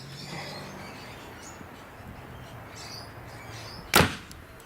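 Arrow loosed from a Hoyt Proforce bow through a chronograph outdoors in light rain, a single sharp snap near the end against a quiet background hiss.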